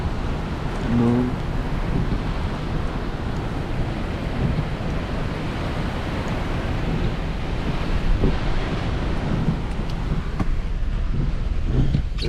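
Hurricane Milton wind gusting up to about 80 miles an hour, a loud continuous roar and buffeting on the microphone with a few sharp knocks, no speech.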